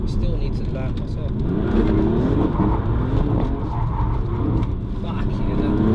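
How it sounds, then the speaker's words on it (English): A BMW M3 F80 with about 530 bhp accelerates hard with traction control off, a loud continuous engine roar heard from inside the car with people talking over it. "Man, this is a stupid fast car."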